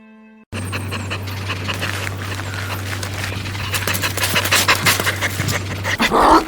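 Labrador dogs pant rapidly and close by, the rhythmic breathing building in intensity over several seconds, joined by a steady low hum in the background and a brief whimpering burst at the end.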